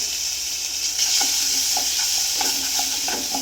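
Urad dal frying in a pan for dosa sizzles with a steady hiss while a utensil scrapes and taps the pan in light, irregular strokes, close and clear with no talk.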